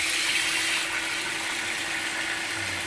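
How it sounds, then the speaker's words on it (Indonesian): Tap water from a home mains supply running out of a faucet in a steady, close, continuous hiss-like stream with no other sounds. "menggunakan air PDAM yang ada di rumah langsung dari keran"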